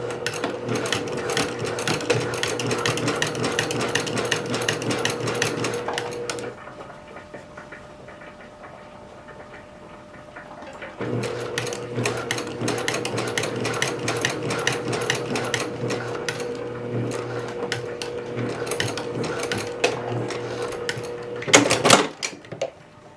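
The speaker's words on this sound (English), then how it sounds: "Sew it real quickly." A sewing machine runs in two long, steady stitching passes along pants seams, close and loud with a rhythmic mechanical chatter and a brief quiet pause between passes.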